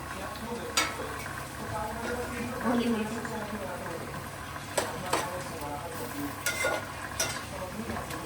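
Asafoetida tempering in hot oil with stirring in a home kitchen, a continuous close sizzle with several sharp clacks of the spoon against the pan, and people talking over it.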